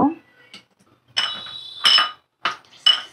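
Small serving bowls for puffed rice knock against each other, giving several bright, sharp clinks in separate bursts with quiet gaps between them, close by and clear.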